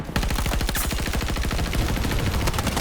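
M16A3 rifle in Battlefield 2042 firing a long, loud, close burst of rapid automatic shots in steady rhythm, continuing for nearly three seconds with no talk over it.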